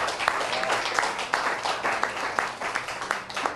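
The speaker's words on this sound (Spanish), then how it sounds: "Demos un buen aplauso, amén" Steady applause from an audience at a religious gathering, dense clapping filling the whole stretch at an even level, with faint voices mixed underneath.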